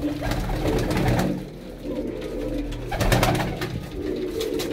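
Pigeons coo in soft, repeated throaty calls, several birds close by, with light fluttering and background activity.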